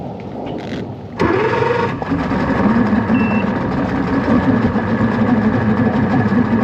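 A 1998 Evinrude 225 hp outboard motor catches and settles into a loud, steady running drone after a brief cranking burst, with a faint beeping tone sounding over it.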